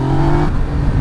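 A 2020 Yamaha MT-09 motorcycle engine revs through a gear shift, a loud, close, steady mechanical drone that eases slightly partway through.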